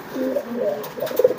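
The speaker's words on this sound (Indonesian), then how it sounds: "Ini proses menggiringkan merpati nih." A young pigeon coos softly up close, giving several low, throaty warbling calls in quick succession.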